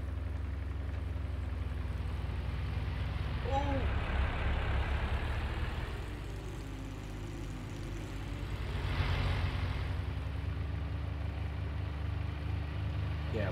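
A tractor engine in Farming Simulator 19 drones steadily while subsoiling, its revs swelling and topping out without climbing higher, with a voice occasionally heard over it.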